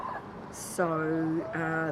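Backyard chickens, Brown Shaver hens kept for about a year, calling up close. Two drawn-out, tonal squawks follow a brief high rustle, with a soft background underneath.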